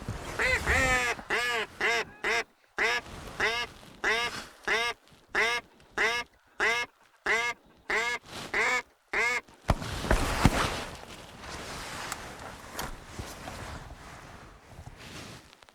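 A rapid, rhythmic series of loud, close duck-call quacks on a duck hunt, repeating in evenly spaced bursts for about ten seconds, then fading into breathy rustling and wind.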